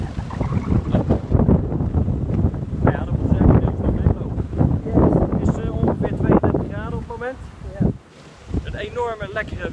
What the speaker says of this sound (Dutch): Enorme lekkere wind.